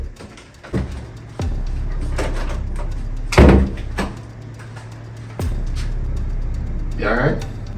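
A door opens indoors, with a few clunks and a brief louder burst from the latch and swing over a steady low hum. Some faint voice-like sound follows near the end.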